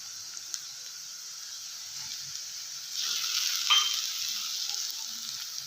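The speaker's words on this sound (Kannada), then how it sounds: "ನೋಡಿ, ಇವಾಗ ಈರುಳ್ಳಿ ಚೆನ್ನಾಗಿ ಹುರಿದಾವೆ. ಇವಾಗ ಟೊಮೊಟೊ ಹಾಕೋಣ." Chopped tomato goes into a pan of fried onions for a North Karnataka-style brinjal palya, giving a soft steady hiss that swells into a brighter sizzle partway through, fairly quiet and close, with no speech.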